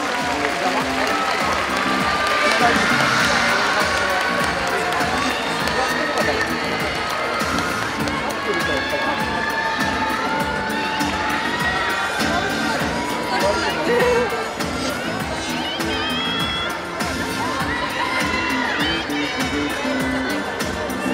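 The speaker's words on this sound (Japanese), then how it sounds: "皆さん、愛子さんに大きな拍手をお願いいたします" A crowd at the MTV VMAJ awards blue carpet in Japan claps and cheers steadily for a prize-winning idol group, with whoops and voices mixed into the sustained applause.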